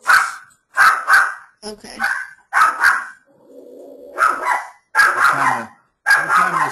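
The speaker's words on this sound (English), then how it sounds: "Every time the snow falls off the roof, my dog thinks somebody's at their front door." A dog barks repeatedly indoors near a front door, set off by snow sliding off the roof, loud sharp barks coming in bursts with a short spoken word among them.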